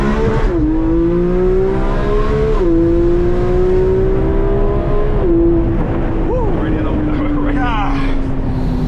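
A Porsche 911 GT3 engine heard from inside the cabin, a smooth, steady howl that climbs in pitch and drops back at each gear change, loud and continuous while someone talks over it.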